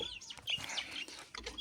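An Adler breed rooster clucks in short, uneven calls, with thin chirps mixed in, fairly faint and close by.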